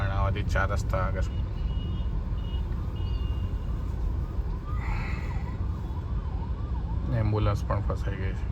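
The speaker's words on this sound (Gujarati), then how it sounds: "ટ્રાફિકમાં એમ્બ્યુલન્સ ફસાય છે મિત્રો." An ambulance siren wails from a distance, caught in evening city traffic at a crossroads on a highway. Its rising and falling tone drifts over a rumbling road and engine bed, while a person talks near the recorder.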